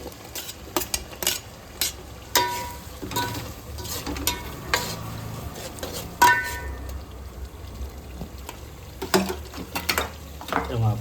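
Onions stirred and frying in hot masala for Gujarati-style veg biryani, a steady sizzle under repeated scrapes and clinks of a spoon against the pan.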